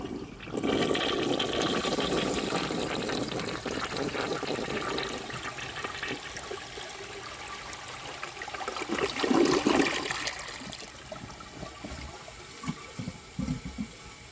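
A 1951 Standard Cadet toilet flushes with a loud, steady rush of water lasting many seconds, then gurgles and settles into a quieter refill trickle, with no voices.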